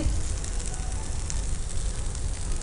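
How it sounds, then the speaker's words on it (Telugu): Potatoes frying in hot oil with masala, a dense continuous crackling sizzle close by, with no talk. "మసాలా వేసి ఫ్రై చేస్తున్నాం దీన్ని మనం ఆలుని."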